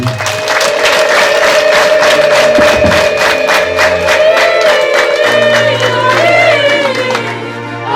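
Church congregation at a Mass marking the founding of a Pueri Cantores children's choir in Rusasa, breaking into sustained loud applause with high ululation calls layered over steady clapping throughout, filling the space without pause.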